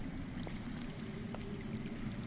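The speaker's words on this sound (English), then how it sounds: "I hear water. From underground." Underground water flowing quietly in a Game of Thrones adventure game scene, a steady low rushing murmur with faint trickling, distant and continuous, with no talk over it.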